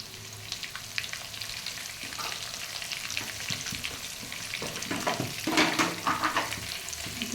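Potato pieces dusted with turmeric and salt fry in a pan, giving a continuous close sizzle that swells with stirring toward the end, no voices over it.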